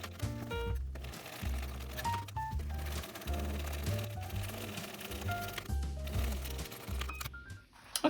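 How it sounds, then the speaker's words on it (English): A sewing machine stitches a 3/8-inch seam on a handmade bag, running in repeated short bursts of rapid mechanical chatter with brief pauses between them, close and clear with no talking. "now we're going to sew through this with a 3/8 of an inch seam allowance"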